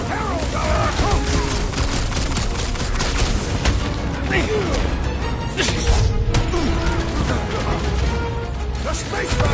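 Dense battle explosions and gunfire in Guardians of the Galaxy game combat, continuous booms, crashes and rapid shots layered thickly, with character voices shouting over the chaos.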